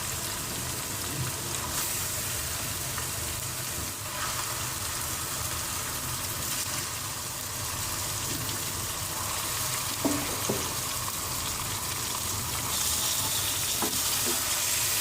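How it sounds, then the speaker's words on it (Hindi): Chicken frying in a pan for achari chicken, a dense, loud, continuous sizzle with occasional stirring knocks near the end, and no one speaking. "अब इसमें चिकन शामिल करते हैं"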